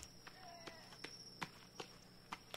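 Footsteps of a cannibal in The Forest video game, a series of soft, evenly spaced thuds at a moderate distance, with a steady high insect-like drone running underneath.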